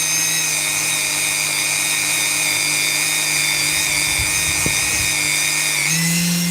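A Dremel rotary tool spins hard at about 15,000 RPM, giving a loud, steady high-pitched whine with strong harmonics that continues throughout and shifts pitch slightly near the end.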